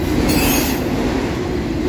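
A long CSX autorack freight train rolls westbound through Homestead, a loud, continuous rumble and rattle of railcars with a brief wheel squeal on top, close by and with no talk.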